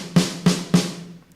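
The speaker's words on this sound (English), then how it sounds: "we've loosened up the top head of the snare drum there" A Logic Pro virtual snare drum, tuned down with its top head loosened, is hit three times in a steady pattern, each hit a loud, close, low and slack thud with a short buzzy tail.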